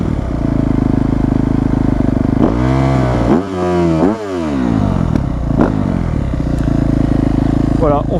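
A Yamaha YZ250F dirt bike engine, just kick-started, idles loudly and steadily up close, with a brief throttle blip that rises and falls midway before settling back to idle.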